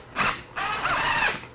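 A power drill drives screws through 5/8-inch fire-rated drywall into ceiling hat channel, giving two close, loud whirring bursts, the first brief and the second longer and revving, with no talking.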